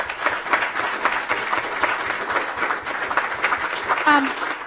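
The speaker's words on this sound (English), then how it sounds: "Let's give them another round of applause" Audience at a regular school district work session giving young people another round of applause, a steady patter of many hands clapping in a meeting room with some voices.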